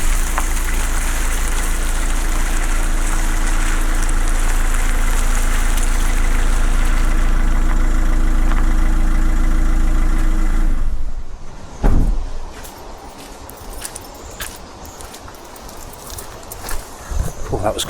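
A campervan engine runs steadily and loudly while the van reverses into a parking spot, then cuts off abruptly, leaving quieter clunks, knocks and faint background noise.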